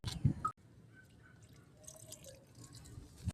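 Light water drips and patters onto potted chili plants outdoors, a few soft splashes at the start and then quiet, faint trickling.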